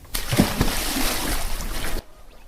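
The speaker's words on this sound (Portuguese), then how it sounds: "Num só pulo, o gato cai dentro da água." A cat drops into water with a sudden splash and sloshing that lasts under two seconds, then cuts off sharply to near silence.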